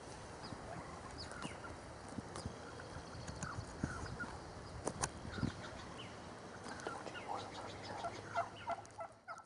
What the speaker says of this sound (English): It didn't take long before the gobblers were within 20 yards of his blind.